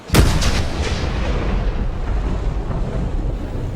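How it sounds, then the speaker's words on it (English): A cannon fires the morning gun at Fort McHenry, a single heavy boom near the start followed by a long rumbling tail under wind noise. "Francis Scott Key heard the soldiers at Fort McHenry triumphantly fire the morning gun."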